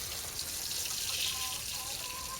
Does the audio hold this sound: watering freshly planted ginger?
yes